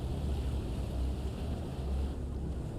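A cargo vessel's engine idles in a fishing and aquaculture simulation, a steady low rumble mixed with wind and lapping sea water, continuous and even with no voices.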